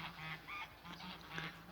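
Geese honk outdoors by a rural house near freshly cut hay, a few overlapping nasal calls repeating in short bursts at moderate distance.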